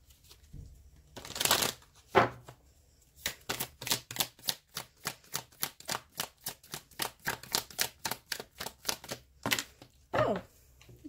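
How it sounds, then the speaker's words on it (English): A deck of energy oracle cards is shuffled close by, with a couple of loose flicks followed by a long run of quick, even riffles, then a few final snaps. No one talks. "Now I'm just going to grab a few of the energy oracle cards."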